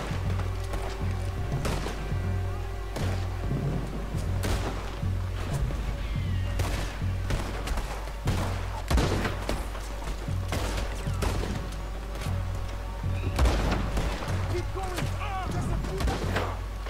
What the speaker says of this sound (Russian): С этой стороны сейчас в лодке постреляем.